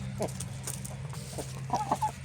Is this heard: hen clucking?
yes